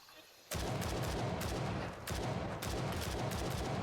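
Dense, continuous automatic gunfire in the shooter game Gray Zone Warfare, a loud sustained fusillade that bursts in suddenly, briefly dips, then carries on without pause.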